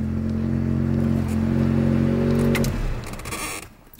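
A car with a newly fitted clutch revving hard with a loud droning engine that holds steady, then cuts off as gravel crackles and clatters under the spinning tyres before quieting.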